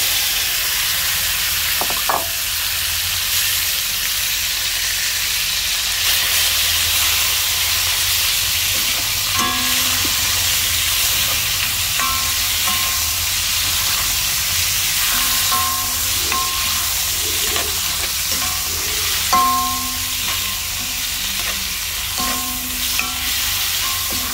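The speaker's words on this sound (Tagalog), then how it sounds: "fry na po natin yung ating pork" Pork stir-fries in a hot pan, giving off a continuous loud sizzle. A spatula clacks and scrapes against the pan at irregular moments throughout.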